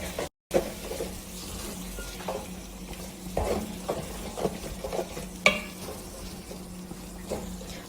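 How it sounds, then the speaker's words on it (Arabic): Vegetables sautéing in a pan with a soft steady sizzle, with a spoon scraping and stirring in irregular bursts, close and moderately quiet, during the cooking of a shrimp stew. "بس ابي الخضرة تنحمس شوية."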